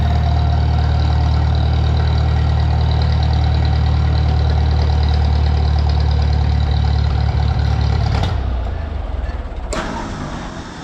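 A John Deere 8820 tractor engine idles loud and close on choke with a deep, steady rumble that shifts abruptly near the end as the engine changes pitch and then fades slightly.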